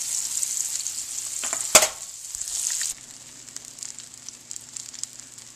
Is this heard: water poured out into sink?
no